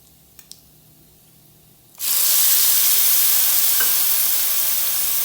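Onions dropped into a hot pan of oil and masala for a soya chunks curry set off a sudden loud, steady sizzle after two soft clicks and near-quiet, hissing continuously to the end.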